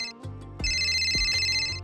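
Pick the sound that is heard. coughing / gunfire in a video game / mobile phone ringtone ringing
mobile phone ringtone ringing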